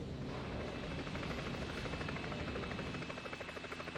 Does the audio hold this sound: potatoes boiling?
no